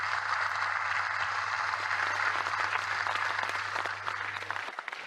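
Eight UFC fighters seated together at one table applaud in Dagestan, giving continuous, even clapping over a steady low hum, with the hum cutting out shortly before the end.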